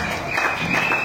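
A crowd at a religious gathering applauds and cheers in a dense, steady roar of clapping that fills the whole moment.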